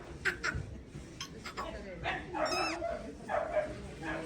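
Dogs at a Kyiv animal market give short yips, barks and whimpers amid crowd chatter, with people talking close by throughout.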